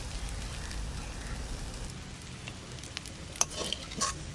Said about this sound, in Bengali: ঢাকা ছাড়াই রান্না করলাম শাকটা ভাজা।